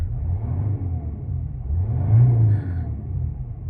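A Mercedes R-Class 3-litre diesel engine with 86,102 miles idles with a low, smooth rumble, swelling briefly as it revs before settling back; no voices.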